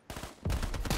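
A short burst of rapid gunfire from a gun in the Call of Duty Black Ops 3 multiplayer shooter, close and punchy, several quick shots in under a second.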